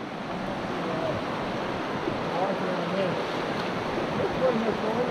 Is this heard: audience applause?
no